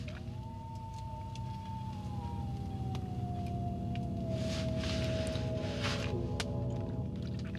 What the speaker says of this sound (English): I heard a wolf howl.